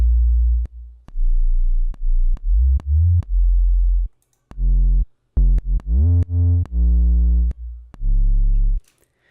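Basic clean 808 bass with no distortion, a series of deep booming synth notes at varying pitches, each starting with a sharp click and sustaining briefly, played alone in a steady pattern.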